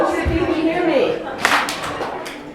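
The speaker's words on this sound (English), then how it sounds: "Clap once if you can hear me." An audience at a community organizing event claps once together, a single sharp burst of hands near the middle, preceded by a speaker's voice.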